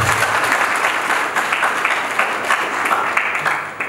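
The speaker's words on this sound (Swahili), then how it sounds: "Tupigeni makofi mengi sana." A crowd at a prison leadership training closing ceremony breaks into steady, dense applause, loud and sustained throughout without pause.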